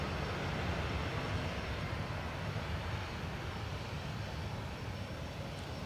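A WestJet Boeing 737 Max 8 from Toronto lands at Dublin Airport, heard as a steady, moderately faint broadband jet roar that holds evenly throughout.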